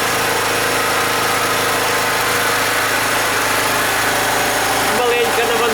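A FEIDER FG3000-A petrol generator rated 2.7/3.0 kW runs steadily, a dense, loud, close engine drone with a constant mechanical hum and no pauses.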